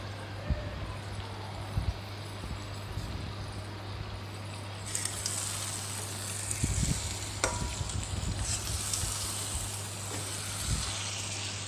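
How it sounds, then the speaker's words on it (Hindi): Chicken curry sizzling in a pan on a medium flame while it is stirred, a steady low frying hiss with soft scraping and occasional knocks of the spoon, no voices. "चिकन को अच्छी तरह मीडियम फ्लेम पर ही बार बार चलाते हुए ढक ढक कर मीडियम टू लो फ्लेम पर बार बार चलाना है"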